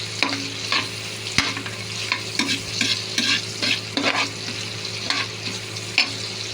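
Chopped onions sizzle and fry in hot margarine in a pan for a vegetable dish, with a steady crackle and repeated scraping stirs of a spoon close by.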